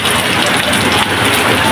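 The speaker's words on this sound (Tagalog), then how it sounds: "Lakas ng ulan dito mga kabarok." Heavy rain pours down at a marketplace, a loud, dense, unbroken hiss of drops drumming on surfaces close by.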